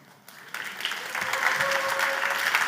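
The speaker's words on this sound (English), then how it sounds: "You heard the applause." Audience applause at a science talk on decentralized research, starting faintly then swelling into steady, dense clapping from a sizable crowd, with a faint voice briefly audible underneath.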